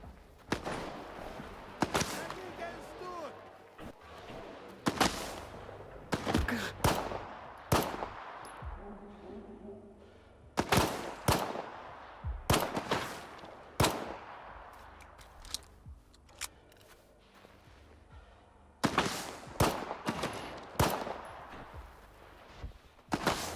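Pistol gunfire in a video game: loud, sharp shots fired one at a time or in short clusters, spaced irregularly with brief gaps between volleys, close and dry.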